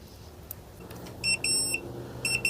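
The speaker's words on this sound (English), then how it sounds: "it's beeping" Electronic alarm beeping from an Inkbird INT-14-BW wireless meat thermometer during barbecuing, in repeated short bursts of high, tonal beeps, fairly close and clear.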